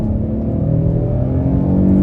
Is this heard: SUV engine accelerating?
yes